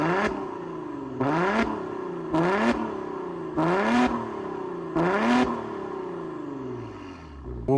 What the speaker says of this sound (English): We should probably hear how that Maserati music sounds as we miss the sound of a Ferrari-derived V6 engine